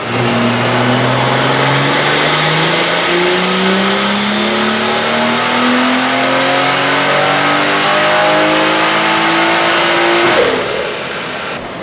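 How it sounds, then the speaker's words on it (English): A turbocharged BMW F30 340 car engine roars loudly at full throttle on a dyno pull, rising steadily in pitch for about ten seconds before backing off at the end. "that turbo sounds wild"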